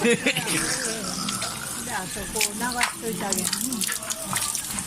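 Water runs and splashes into a basin at a shrine purification spot in Osaka, Japan, while people talk nearby, with occasional gushes and drips.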